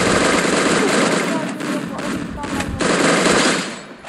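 MP40 submachine gun with a doubled rate of fire in a video game: a continuous, dense stream of loud automatic fire with brief breaks, heard alone.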